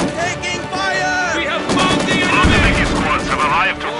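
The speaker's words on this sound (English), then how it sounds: "On your left, with the enemy taking small arms fire!" Small arms gunfire from the World War II strategy game Company of Heroes 2 rattles as dense overlapping rifle and machine gun bursts with a loud steady battle din, while voices speak over the shooting.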